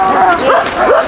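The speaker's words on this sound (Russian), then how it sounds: "Собаки вот видите, переживают, хотят бежать уже." Experienced sled dogs in a six-dog sprint team yip, whine and bark eagerly before a race start, loud and close, with excited overlapping calls.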